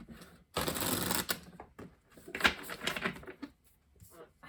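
A stack of tarot cards being shuffled in quick papery riffling bursts, fairly quiet and close, with a short pause between flurries and soft handling noises after.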